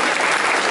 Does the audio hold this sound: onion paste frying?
no